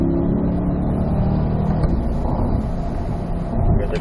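A Chevrolet C8 Corvette engine on a racetrack pulls hard in 4th gear, a loud, steady roar that dips slightly partway through and then builds again.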